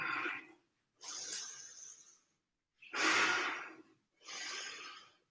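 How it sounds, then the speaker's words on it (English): Deep belly breaths during a breathing exercise, four loud, breathy inhale and exhale bursts about a second long each, separated by short pauses and heard close up with no talking. "Still breathing into the belly."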